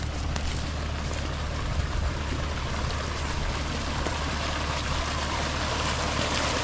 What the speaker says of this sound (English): Oh yeah, it's gushing. It's coming heavy through something.